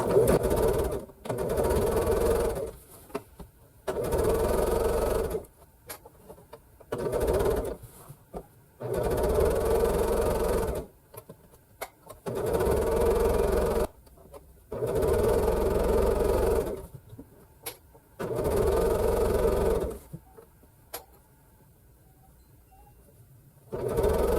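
A sewing machine back stitches while piecing a floral zig zag quilt, running in repeated bursts of a few seconds each, separated by short quiet pauses, loud and close.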